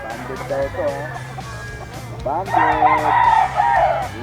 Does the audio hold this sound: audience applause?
no